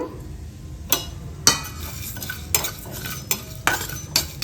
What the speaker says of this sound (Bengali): এবারে দিয়ে দেবো আমি এই মানে শুকনো মশলাগুলো দিয়ে একটু ভেজে নেব